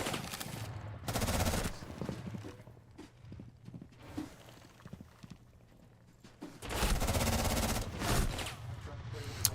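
Video game gunfire from an online shooter match: two loud bursts of rapid automatic fire, one near the start and one near the end, with quieter sporadic shots and clatter between them.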